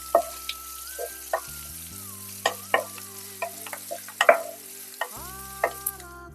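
Onions sauté with prawns in a pan for a spicy prawn roast: a low sizzle runs throughout while a utensil stirs and scrapes in sharp, irregular strokes, close and distinct, over steady background music.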